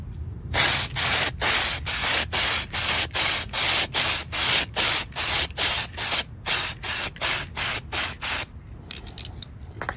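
Rapid, rhythmic bursts of aerosol spray paint as light coats go onto a Mini Cooper model, some fifteen short hissing puffs in quick succession, loud and close, then a few faint sputters at the end.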